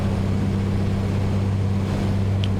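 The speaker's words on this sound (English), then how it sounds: "Now we're just going to do a run up right here to make sure everything is okay. 2000 RPM." A light aircraft's piston engine holds a steady run-up at 2000 RPM before a cross-country flight leg, a loud, constant drone with strong low harmonics and no voices over it.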